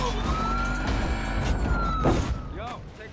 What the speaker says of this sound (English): Get those sirens on, baby.